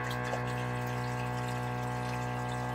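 Water running steadily from a pump-fed faucet inside an ambulance converted into a tiny home, a constant flowing hiss with a faint electric pump hum underneath.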